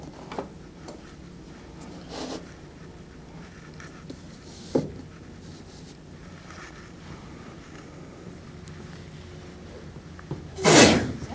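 Against a windy, rumbling outdoor background with a few small knocks, a single loud sneeze erupts near the end.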